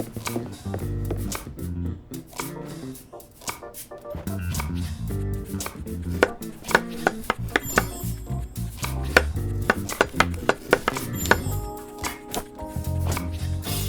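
Rapid knife chopping on a cutting board in Chef Life: A Restaurant Simulator, a restaurant kitchen game, with bursts of crisp chops over steady background game music.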